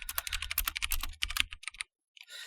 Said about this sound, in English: But you can type on the keyboard.